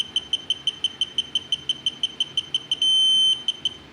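A VANPO digital torque wrench set to 8 foot-pounds beeping at its set torque, with a rapid, steady run of high electronic beeps that ends in one longer continuous tone, close and clear with no talk.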